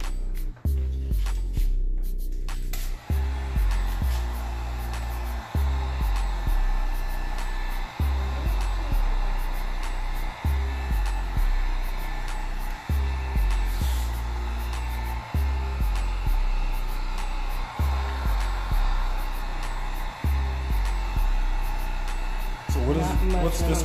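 Heat tool blowing steadily on alcohol inks over a black base coat tumbler, a loud continuous close whoosh with a faint regular pulsing, running almost without a break.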